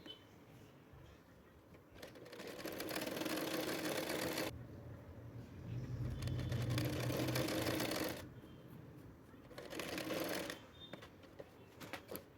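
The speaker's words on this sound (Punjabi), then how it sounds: "ਤਿੰਨੋਂ ਸਾਈਡ ਆਪਾਂ ਸਲਾਈ ਲਗਾ ਲਵਾਂਗੇ" A sewing machine stitches a pocket onto a salwar in three separate bursts of rapid, steady whirring, close and moderately loud, with quiet pauses between runs.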